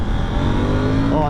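A BMW R1250GS motorcycle engine runs steadily up close, a loud continuous droning hum with a faint rise in pitch near the end, and a voice can be heard over it.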